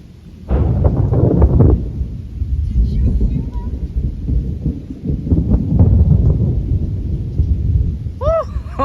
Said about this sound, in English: Lightning bolt.